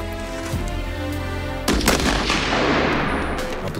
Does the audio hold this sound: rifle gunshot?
yes